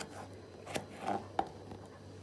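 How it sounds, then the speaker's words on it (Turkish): A few sparse knife chops through dried apricots on a cutting board, sharp single taps spaced irregularly against a quiet background. "Diğer kayısılarımı da aynı şekilde doğrayacağım bu şekilde."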